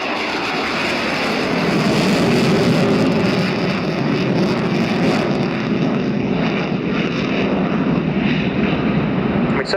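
A Sukhoi Su-27 jet fighter performs a flying display at an air show, its engines producing a continuous loud roar for several seconds, mixed with wind noise on the microphone.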